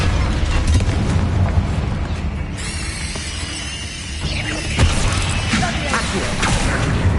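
An Incendio fire spell cast in Hogwarts Legacy, a burst of whooshing flame and rumbling booms amid busy combat effects, with a sharp crackling swish partway through.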